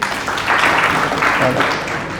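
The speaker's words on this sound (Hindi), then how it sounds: "वेरी गुड, ताली बजाएं इनके लिए।" Audience applause breaking out in a lecture hall during a talk, a dense steady wash of many hands clapping, fairly loud and sustained throughout.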